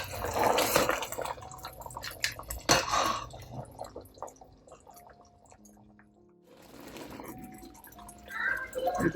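Water with dry fruits bubbles and gurgles in a pot for mutanjan sweet rice, soft liquid churning with clinks and splashes, quieter in the middle and rising again near the end.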